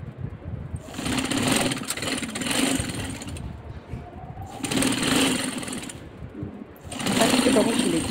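A sewing machine stitches a sleeve of a kameez in three bursts of steady whirring, one running about three seconds and two shorter ones, separated by brief pauses.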